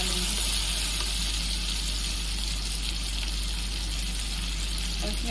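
Ground onion paste sizzling and frying in a pan, a dense, steady hiss that stays loud and unbroken throughout, with no voices over it.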